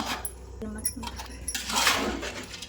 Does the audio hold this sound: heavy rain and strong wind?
no